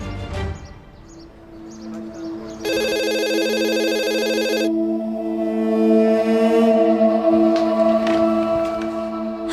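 A telephone rings with a loud electronic tone, layered over a sustained melodic ringtone that keeps sounding for several seconds.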